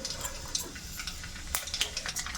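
Mustard seeds popping and sizzling in hot oil for tempering tuvar dal, a faint crackle with scattered sharp pops and a soft spoon scrape.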